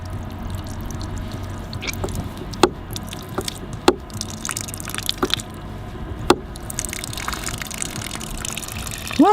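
Warm water from a barrel tank gushes out of an opened outlet in a steady rushing stream, broken by scattered splashing drips and clicks, close and fairly loud with no voices.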